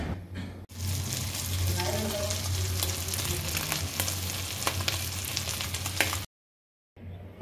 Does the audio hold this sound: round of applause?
no